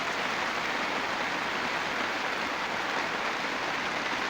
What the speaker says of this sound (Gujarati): આખી રાત વરસાદ રહ્યો છે